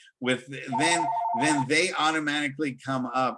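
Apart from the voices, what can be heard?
telephone ringing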